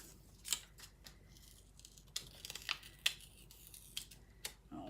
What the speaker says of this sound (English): Okay, it's like really ripping my paper right now.